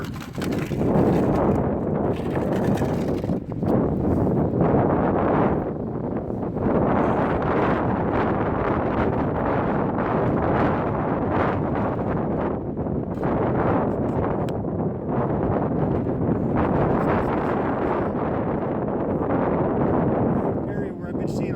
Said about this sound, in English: having trouble sifting dirt because of this damn wind